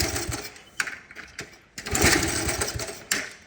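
A Honda CT70 minibike engine, 45 years old, sputters and fires in uneven bursts while trying to start, with sharp irregular pops and a brief rough catch close by.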